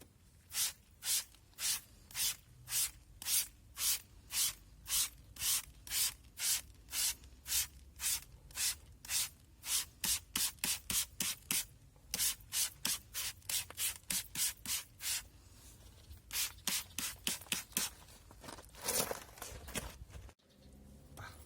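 A brush scrubs a car wheel rim coated in cherry-scented Chemical Guys Diablo rim cleaner, working up foam in steady back-and-forth strokes, close and distinct, speeding up near the end before a brief clatter.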